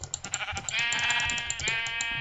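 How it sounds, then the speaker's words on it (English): Minecraft sheep bleat repeatedly, a series of short wavering game bleats followed by a longer drawn-out one, clear and fairly close with no talk. "Okay, I hear you, sheep. I hear you."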